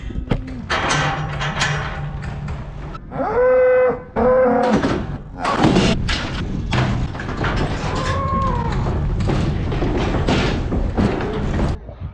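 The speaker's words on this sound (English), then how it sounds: "We've left a cow in there just in case we need to use the cow to help him into the trailer." Cattle moo loudly and repeatedly amid thumps and clatter as a bull and a cow are loaded into a livestock trailer on a farm; the calls are close and dominant over steady background noise.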